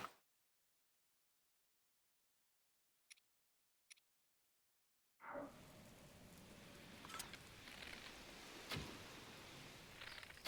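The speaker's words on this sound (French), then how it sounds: "Eh mince, il pleut." After about five seconds of near silence broken by two faint ticks, rain in Zelda: Breath of the Wild near Akkala Fortress comes in abruptly as a steady hiss, with scattered drop-like pattering continuing to the end.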